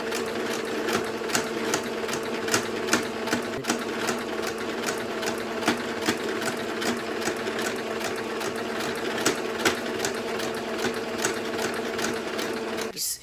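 A sewing machine stitches a fabric face mask in a fast, steady mechanical chatter with regular needle clicks, close and continuous for several seconds before stopping abruptly at the end.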